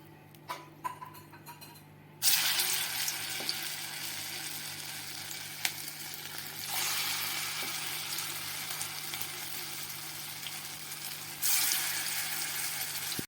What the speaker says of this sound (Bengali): এবার আমি একে একে খইয়ের পকোড়াগুলো ভেজে নেবো